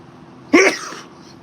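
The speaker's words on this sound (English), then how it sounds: "I'm sneezing a little bit" A single sudden, loud, close sneeze from a man with allergies, a sharp burst that trails off quickly into near silence.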